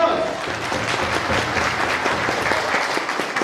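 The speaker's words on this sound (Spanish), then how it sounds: "un fuerte aplauso" A church congregation applauds steadily and loudly for a retiring singer, with dense, even clapping that holds without a break throughout.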